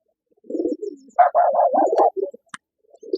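Tumbler pigeons, a Turkish high-flying roller breed, give soft cooing calls in short bursts with a few brief chirps, fairly close and clear with no talking.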